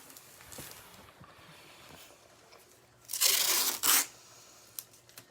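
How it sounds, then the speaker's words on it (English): Cardboard board edges being taped up: two loud, close ripping bursts of tape pulled off the roll in the middle, with faint rustling and handling before and after. "So this is what I've been doing. Just, taping it up."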